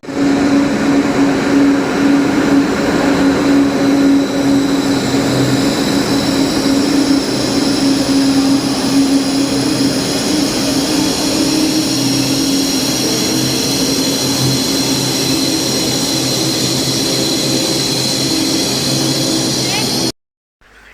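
A steady low rumble and hum of a train arriving at a station, continuous and fairly loud, running throughout before cutting off near the end.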